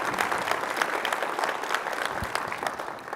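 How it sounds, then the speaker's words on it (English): A conference keynote audience gives sponsors a loud round of applause: dense, sustained clapping from a large crowd that stays even and close for the whole stretch, with no talking over it. "give a big round of applause for our sponsors"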